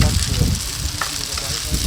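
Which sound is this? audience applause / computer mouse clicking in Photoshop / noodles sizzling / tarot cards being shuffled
noodles sizzling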